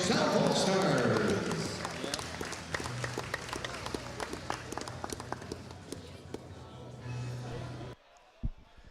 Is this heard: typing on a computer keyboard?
no